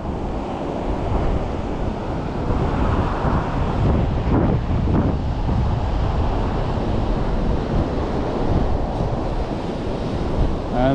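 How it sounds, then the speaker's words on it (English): Atlantic Ocean surf on a beach along Route A1A: a steady, loud wash of breaking waves and rushing water with wind buffeting the microphone, continuous throughout. "This is the Atlantic Ocean."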